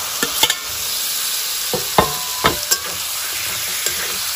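Half a kilo of pork hitting hot oil in a pan for an Assamese pork curry, a steady close sizzle broken by several sharp clinks and scrapes of a spatula stirring the meat.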